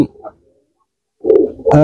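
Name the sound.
pigeon cooing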